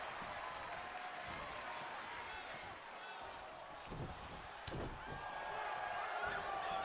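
Crowd noise from a WWE 2K25 wrestling video game during a match, a steady roar of cheering and applause with a few sharp impacts from the ring, while commentary-style talk runs over it.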